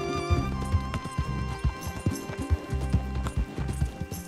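A horse gallops steadily in Red Dead Redemption 2, its hoofbeats a fast rhythmic clip-clop close up over a constant musical score.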